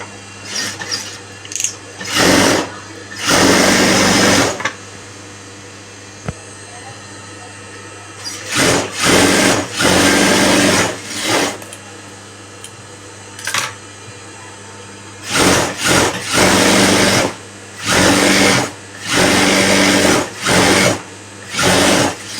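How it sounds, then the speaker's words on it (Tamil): Sewing machine running a long stitch around a blouse piece, in several bursts of steady whirring stitching separated by short pauses, fairly loud and close. "இதுக்கப்புறமா வந்துட்டு நம்ம சென்டரில் ஒரு லாங் ஸ்டிச் போட்டுட்டு திரும்ப ஃபுல்லாகவே சுற்றி அடிச்சுட்டு"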